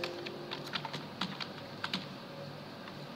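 Quiet, close typing on a computer keyboard, entering MS Access into the Windows Run box: a short run of irregular crisp key clicks, ending in a firmer press.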